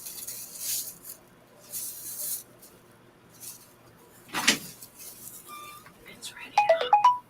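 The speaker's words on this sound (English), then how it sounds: "Oh, that was my phone." A phone's text message alert chimes near the end as a quick run of short bright tones, after scattered clatter and shuffling during a livestreamed tabletop Pathfinder game session.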